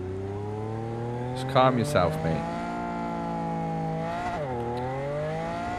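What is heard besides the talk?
car engine driving in the video game Cyberpunk 2077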